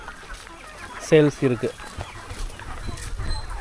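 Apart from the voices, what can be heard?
native country chickens clucking on a farm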